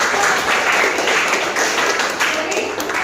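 Audience applause at a school presentation on food production, a dense steady wash of clapping throughout, fairly loud and continuous with a busy crowd texture.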